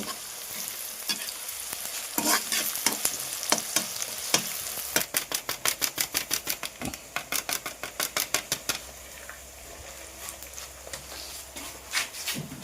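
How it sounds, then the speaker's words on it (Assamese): Onions sizzling and frying in a pan for village-style chicken gravy, with rapid rhythmic scraping of a spoon stirring against the pan over a steady sizzle. "পিঁয়াজটো গল্ডেন ব্ৰাউন হোৱাৰ কাৰণে অলপ ৰখিব লাগিব।"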